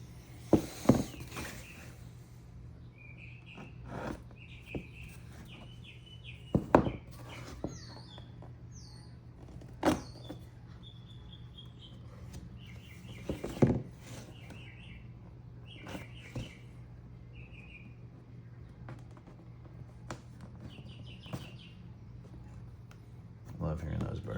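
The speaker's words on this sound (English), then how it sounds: "Love hearing those birds." Birds chirp repeatedly outdoors in short high tweeting phrases, moderately distant, over a low steady hum with occasional knocks and brief talk.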